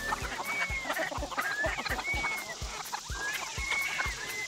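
Meat chickens let out of their coop in the morning cluck and chatter together close by, with squawks and rhythmic footsteps or rustling throughout and no talking.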